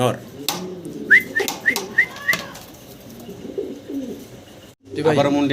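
Domestic pigeons kept for sale give a short series of soft rising coos and whistly calls, close by, followed by a burst of nearby voices at the end.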